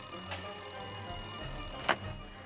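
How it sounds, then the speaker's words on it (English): A telephone rings indoors, short repeated electronic bursts over a quiet, steady hum, fairly faint and distant with no one speaking. "If you don't want me to pick up, stop ringing."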